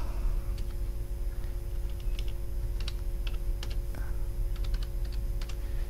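Steady bursts of typing on a computer keyboard while configuring a Cisco router, soft clustered key clicks heard close and alone at low volume.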